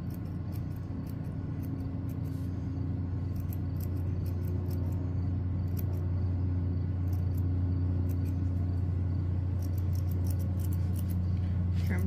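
Scissors snip repeatedly at a needle-felted wool coaster, with crisp, irregular cuts heard close over a steady low background hum.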